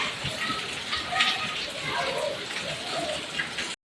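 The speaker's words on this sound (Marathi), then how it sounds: "पाऊस जोरदार आहे बाहेर" Steady, dense patter of heavy rain falling outside, a constant wash of noise that cuts off abruptly at the end.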